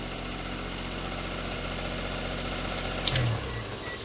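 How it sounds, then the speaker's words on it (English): A swapped Daihatsu Charade engine idles steadily with its exhaust reconnected and a silencer fitted, a smooth low rumble close by with a brief louder blip near the end. "Sounds a lot smoother now we've got a silencer on the exhaust."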